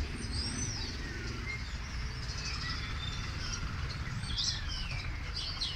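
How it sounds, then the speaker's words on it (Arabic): A common starling sings, with whistled, warbling and chirping phrases over constant background noise, fairly faint and with no talk. "اللهم بارك، اسمع اسمع الأصوات، تغاريد الجميل."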